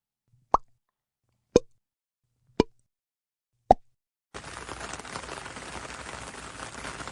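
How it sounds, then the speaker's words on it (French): Four separate drops plop one by one onto window panes at even intervals, then a soft wash of rain-like patter follows, quiet and close. "on entend un bruit de gouttes sur les carreaux"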